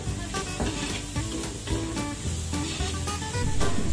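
Garlic and onion sautéing in a pan for a Batangas dish, a steady close sizzle and hiss of frying with occasional clinks and stirring throughout, no talking.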